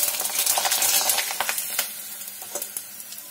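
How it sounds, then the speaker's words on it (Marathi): Wheat-flour salpapadi frying in hot oil, a bright crackling sizzle with quick popping ticks that thin out into scattered crackles as the wafers puff up, close and without talk. "या सालपापड्या आपण तळून बघणार आहोत. चला तळून बघूया."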